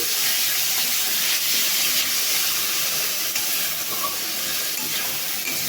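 Ginger-garlic paste and chopped tomato fry together in a pan, giving a steady, close sizzling hiss that holds at an even level throughout, with no voices.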